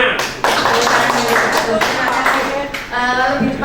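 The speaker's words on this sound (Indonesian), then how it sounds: "Tepuk tangan." An audience at a school teacher-training session on discipline and punishment claps together, a steady, fairly loud spatter of hands that runs throughout, with a brief dip near the end.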